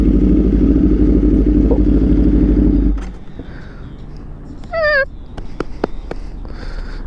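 An Aprilia RSV4 with an SC-Project CRT exhaust runs as a steady, loud engine drone for about three seconds on a short rainy ride, then cuts out abruptly, leaving quiet background with a few chirps.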